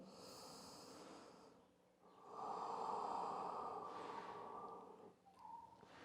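Slow, deep breaths taken during a yoga warm-up flow, close and quiet: a long airy inhale, a brief pause, then a fuller, longer exhale with a soft nasal edge.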